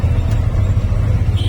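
A vehicle engine on the road revs in first gear in traffic, a loud, steady low rumble close by with no voices over it.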